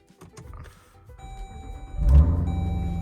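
A truck's 6.2 engine fires up by push-button start: a quiet stretch, then a sudden loud low rumble that settles into a steady, close idle.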